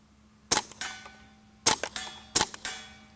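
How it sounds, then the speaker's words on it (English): Subsonic rounds from a Ruger 22 Charger pistol fire at a steel target, three sharp shots each followed by a bright metallic ring of the steel that outlasts the soft report, spaced about a second apart outdoors. "But you can hear that the steel rings so much louder than the actual report of the firearm itself."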